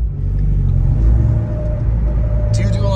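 A 2024 Ford Mustang GT with a turbo whistle idles and revs nearby, a steady low rumble with a faint whine rising near the end, continuous over three seconds.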